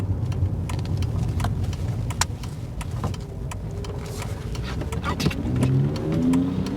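A Volkswagen Golf drives off and makes a U-turn, its engine running steadily close by with mild revving and some rattling, while someone talks over it.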